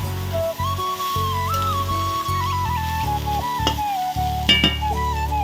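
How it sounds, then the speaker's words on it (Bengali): Crab and mustard flowers are stirred in a hot wok, a soft sizzle and scraping running under a loud, steady tonal hum with sliding whistle-like pitches, and a brief clatter near the end. "এখন দেখো কড়াইতে আমি দিয়ে দিয়েছি, দিয়ে একটু ভালোভাবেই কিন্তু নাড়াচাড়া করে নিচ্ছি"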